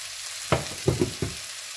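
A frying mixture for a Kerala-style stir-fry gets stirred in a pan, a steady low sizzle broken by four quick scraping strokes of a spoon, close up and without speech.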